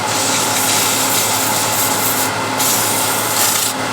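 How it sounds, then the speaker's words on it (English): Wood spinning on a lathe is sanded with 240 grit sandpaper, giving a loud continuous rough rubbing hiss that holds steady throughout with no talking. "We can sand that a little bit,"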